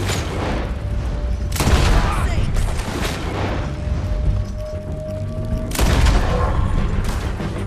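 Heavy gunfire booms erupt in Red Dead Redemption 2 in a few loud, close blasts with sharp cracks, mixed with game action noise and shouting voices.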